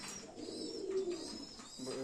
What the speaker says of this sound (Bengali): বনু কবুতর আমাদের